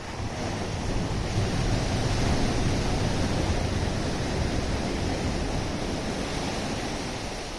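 Sea waves washing against a rocky mountain coast near Gadani in Balochistan, a continuous broad roaring wash with slow swells in loudness, steady and fairly distant, with wind noise mixed in and no voices.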